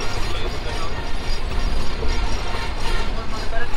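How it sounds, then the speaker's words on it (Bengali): Steady loud rumble and rhythmic clatter of the Chilahati Express train crossing a long river bridge in Bangladesh, heard from inside a carriage, continuous broadband noise with no talking. "বাংলাদেশের দ্বিতীয় দীর্ঘতম সেতু আমরা পাড়ি দিচ্ছি, এরকম লাক্সারিয়াস লাল সবুজের পতাকা মিশ্রিত চিলাহাটি এক্সপ্রেস ট্রেনে"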